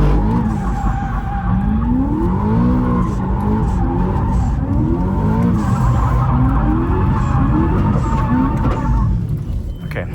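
A car drifts in continuous donuts in first gear, its tires squealing loudly and steadily under a revving engine, the squeal rising and falling in repeated sweeps as the car swings around.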